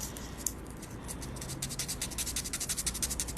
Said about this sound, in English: unless I can get that sanded down even lower